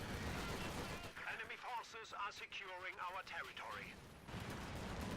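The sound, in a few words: HE shells firing, from a WWII strategy video game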